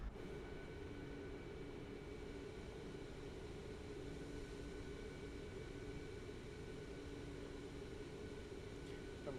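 A Boeing 737 MAX 8 (iFly model) in the MSFS2024 flight simulator spools up for takeoff on the runway, giving a steady, loud, continuous jet engine roar with a constant hum throughout and no talk.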